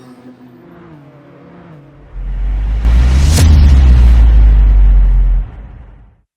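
A Jaguar Group 4 race car in Gran Turismo 7 at Road Atlanta rises from a low hum into a loud, sustained roaring rumble, peaks with a sharp burst, then cuts off abruptly.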